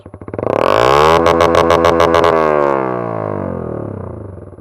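A Yamaha YZF-R125 motorcycle exhaust revs hard toward 10,000 rpm, rising to a loud buzzing scream, holding briefly, then falling back as the engine winds down, close and alone.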